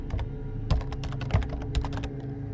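Rapid keyboard typing on a computer in the Roblox game Flee the Facility: dense bursts of clicky keystrokes, close and crisp, with a few heavier thumps, steady over a low hum.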